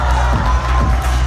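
A concert audience at a show at the Kulakovsky House of Culture in Yakutsk fills the hall with loud, dense crowd noise of cheering and clapping. It is brief and steady, with a low rumble underneath.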